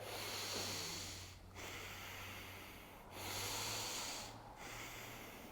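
An exaggerated inverted breathing demonstration, with heavy effortful breaths drawn through the nose and neck in three long cycles, each pulled in loudly and broken by short pauses, close and alone.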